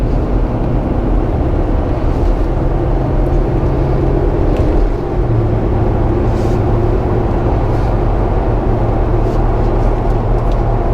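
Steady, loud road roar and engine drone from a 2021 Jeep Gladiator Rubicon cruising at higher speed on pavement, continuous wind and tire noise with a slight shift in engine tone midway, no talking.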